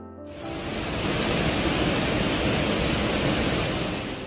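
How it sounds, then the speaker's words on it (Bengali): Heavy rain pours outside in a Kalimpong hill village near the Jaldhaka River, the downpour and rushing current merging into a loud, unbroken roar that swells in and holds steady, with no voices. "প্রচণ্ড জোরে বৃষ্টি হচ্ছে, তার ওপরে বাইরে নদীর জলের স্রোত"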